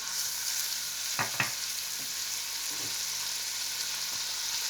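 Steady oily sizzle of ginger garlic paste frying in a hot pan for chicken Manchurian noodles, with a few soft stirring scrapes and clinks over a continuous hiss.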